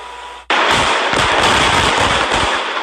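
Airstrikes in southern Beirut give a sudden loud blast followed by a sustained roar of crackling, popping bursts, heavy and continuous.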